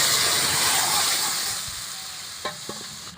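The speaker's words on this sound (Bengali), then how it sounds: "ডালটা ঢেলে দেব" Sizzling of dal poured into a hot tempering of chilli, cumin and ginger-cumin paste, a loud broadband hiss that fades gradually, with a few soft clinks near the end.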